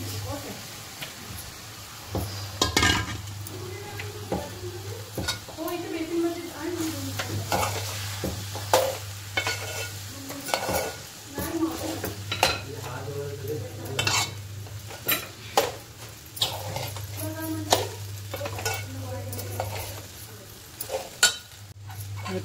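Sabudana khichdi with sugar, salt and peanut powder is stirred in a pan. A spoon scrapes and clinks against the metal in repeated strokes over a soft, steady sizzle.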